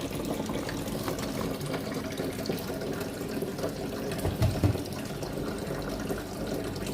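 Small papaya fruits rinsed under running tap water at a sink, a steady splashing flow with a few brief louder knocks near the end.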